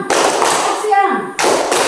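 Schoolchildren clap in a quick, steady rhythm during a classroom clapping routine, sharp close hand taps repeating with a brief gap midway, under a voice.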